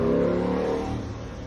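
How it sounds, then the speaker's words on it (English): A loud car goes by outside, a rumbling engine drone that is strongest at first and then slowly fades as it moves away. "Insert loud car in the background"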